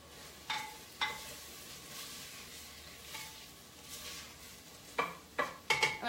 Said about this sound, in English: let me give these a stir